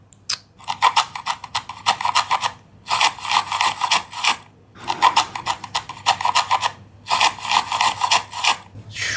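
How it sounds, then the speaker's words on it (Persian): A hand plane shaves wood in four bursts of quick, rasping strokes, each burst lasting about a second or two, with short gaps in between, close and clear. "رنده داره میکنه. چوبو داره میترشه."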